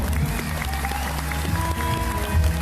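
Dense, steady applause from an audience at a live music show in a theatre, sustained throughout with some crowd noise and tonal music underneath.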